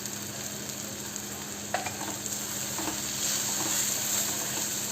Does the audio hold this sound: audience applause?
no